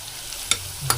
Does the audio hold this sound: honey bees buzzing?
no